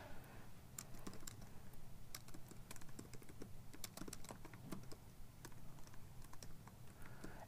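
Steady, fast typing on a computer keyboard, with a dense run of close, crisp key clicks and no pauses or voices.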